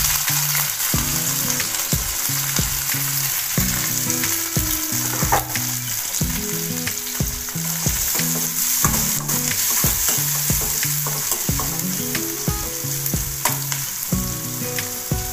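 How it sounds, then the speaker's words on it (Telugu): Cumin seeds and onions sizzle steadily in hot oil for vegetable biryani, with a continuous loud crackle and repeated scraping stir strokes throughout, no voices. "ఇందులోనే ఇప్పుడు జీలకర్ర, ఆనియన్స్ యాడ్ చేసుకున్నాము."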